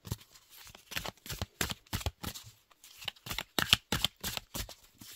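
Oracle cards being shuffled by hand, a quiet series of quick riffling flutters in short bursts with brief pauses between, close and alone.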